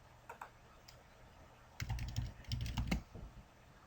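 Keys clatter on a computer keyboard as a username and password are typed, a few faint isolated taps followed by a close, quick burst of typing, with no talk.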